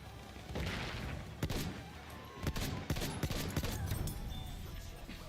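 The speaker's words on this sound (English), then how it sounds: "Enemy machine gun" Enemy machine gun fire in Battlefield 1, heard as scattered bursts of distant shots and thumps against a steady battlefield din, loud cracks near the middle and more shots toward the end.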